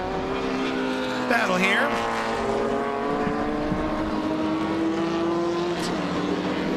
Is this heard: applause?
no